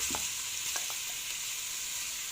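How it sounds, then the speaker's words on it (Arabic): Half a kilo of minced meat frying in oil, a steady broadband sizzle with a few faint stirring clicks near the start, moderately quiet and constant throughout. "هنحط زيت، نحط عليها اللحمه المفرومه نص كيلو"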